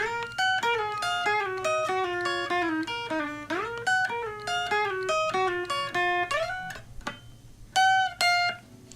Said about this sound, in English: so this is just like the lead guitars playing this, and it sounds like this